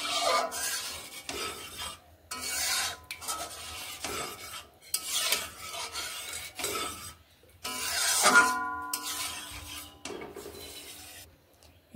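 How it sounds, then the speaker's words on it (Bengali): Boiled lentils being stirred into a pot of cooked spices for vegetable dal, a steady scraping and wet rubbing in repeated strokes, close and fairly loud, with brief pauses between rounds and no talking. "এবার আমি এখানে দিয়ে দিচ্ছি সেদ্ধ করে রাখা ডাল। ভালোভাবে এইভাবে নেড়ে নিচ্ছি।"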